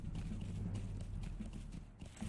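Hooves of a horse clatter in quick, even clip-clop through a Lord of the Rings Online game world, moderately loud and close, with a soft rumble underneath.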